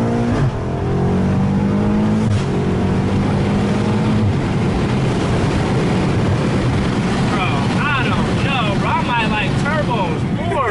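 A loud modded BMW M5 engine revs and roars up close, pitch climbing and falling through several pulls, with wind buffeting and voices underneath.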